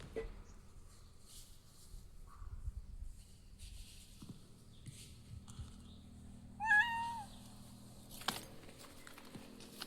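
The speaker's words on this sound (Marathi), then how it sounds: "मला आता इथे एक मांजर दिसलं होतं" A cat meows outdoors on a hot, sunny day, with a short run of clear, fairly close meows midway through over a quiet background and faint clatter.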